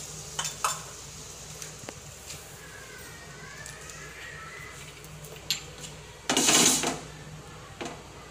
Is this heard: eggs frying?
yes